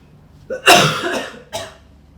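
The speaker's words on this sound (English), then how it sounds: "Don't mind me, I'm just dying from this cough." A person coughs a couple of harsh, close bursts, the first followed by a raspy throat-clearing tail and a shorter second cough.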